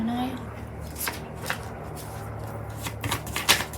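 Tarot cards are shuffled by hand in repeated soft riffling bursts and slaps, close up, while a person talks over the shuffling.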